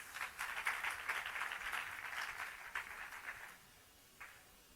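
A modest gathering gives a round of applause, steady clapping at moderate distance that tapers off after a few seconds, ending with a lone clap.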